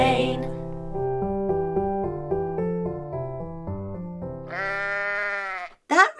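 A sheep's bleat, strongly pitched and wavering, rises near the close of a bouncy children's nursery-rhyme tune played on tuned instruments, following the melody rather than sounding on its own.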